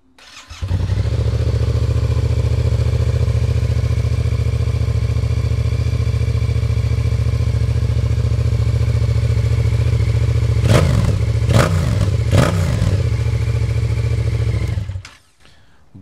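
A road motorcycle with a newly altered exhaust idles steadily with a deep, close, continuous engine rumble, then revs sharply three times near the end before shutting off.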